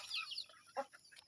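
Chickens being kept in a rural province cluck softly and briefly, a few short, faint calls close by with no talking.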